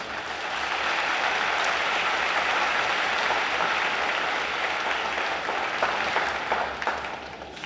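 An audience at a high school graduation ceremony applauds in a dense, steady roar of many hands clapping at once, sustained for several seconds and fading slightly at the end.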